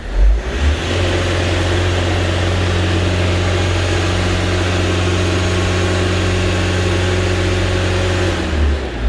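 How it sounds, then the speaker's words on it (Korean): A Daedong RX570 tractor diesel engine runs close by after a sensor replacement, idling steadily with a low rumble, then holds a raised, revved hum before settling back near the end. "시동을 걸었고 악셀레터를 한번 올려 볼게요"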